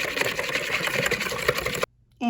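Garlic and olive oil sauce is whisked briskly in a bowl, a steady rapid clatter for nearly two seconds, then it stops and a voice starts.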